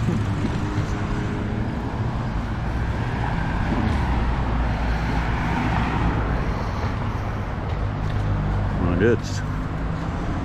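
Police car passing on a road, its engine and tire noise blending into steady traffic rumble, with a brief rising whoosh near the end as it goes by, heard under someone talking.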